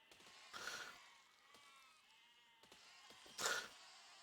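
Sheep bleat in the physics-building game Besiege, with two distinct bleats about three seconds apart, quiet and unaccompanied over a faint mechanical background.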